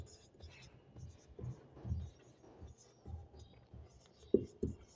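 Pen scratching on paper during handwritten formula work, faint and close, with soft irregular strokes and a couple of sharper taps near the end under quiet speech.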